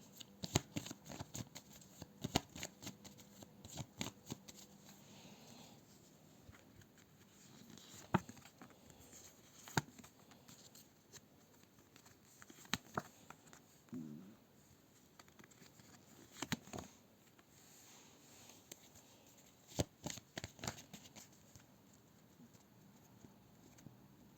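Soft, steady riffling and patter of cards being shuffled close up, with irregular sharp clicks and flicks scattered throughout, no voices.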